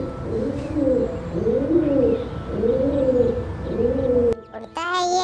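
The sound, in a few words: pigeon cooing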